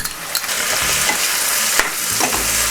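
Onions browning in a pan with ginger paste and garlic paste for a chicken liver curry, frying with a loud continuous sizzle and scraped by stirring throughout, no voices.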